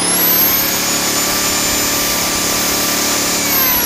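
A Champion 2000-watt inverter generator runs in regular mode with a steady, loud mechanical hum and high-pitched whine, close by and constant throughout.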